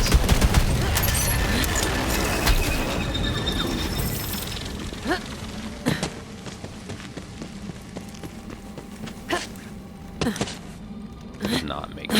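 Gunfire from the video game Borderlands 3 pounds through a dense, busy fight, with rapid bursts at first and then scattered sharp shots over game noise while a voice talks.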